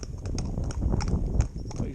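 Hooves of a Gypsy Cob horse walking give a steady clip-clop of several close, even strikes, with a voice in the background.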